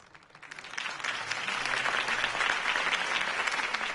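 Applause from a crowd in the video game Batman: The Telltale Series swells up and keeps going as steady, dense clapping, loud and sustained.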